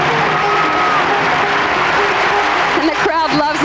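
A crowd at a 1987 Pan American Games women's gymnastics all-around event cheers and applauds after a routine, a steady wash of clapping and voices heard under an announcer's ongoing commentary.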